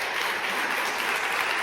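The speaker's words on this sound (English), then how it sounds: "Your round of applause." Short burst of steady audience applause at an online breakfast talk event, even and continuous clapping throughout.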